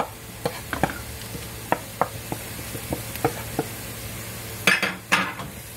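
Upma with coconut being stirred and sautéed in a pan: a quiet steady sizzle under repeated sharp scrapes and taps of a spoon against the pan, busier toward the end.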